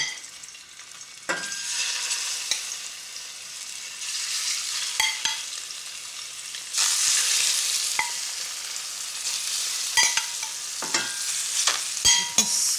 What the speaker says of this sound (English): I'm going to start this dish by just frying off the fish, just almost sealing it